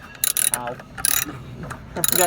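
Ratchet working loose the rear bolts on a car's brake master cylinder, a few quick bursts of clicking and rasping with short pauses between, close by, with faint voices in the background.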